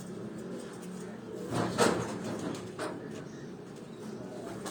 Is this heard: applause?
no